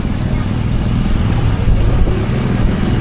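A Honda PCX-type motorcycle engine runs steadily at close range, giving off a low, continuous rumble that holds an even level for about three seconds, with no talking.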